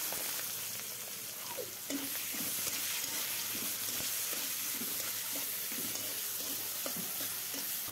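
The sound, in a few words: onion frying with dried fish in oil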